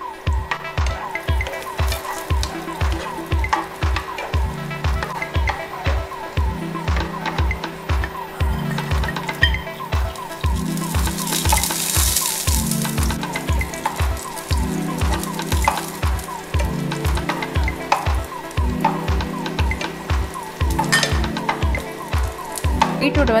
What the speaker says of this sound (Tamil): அந்த கீயில் வந்து நம்ம ரோஸ்ட் பண்ணி எடுத்துடலாம்.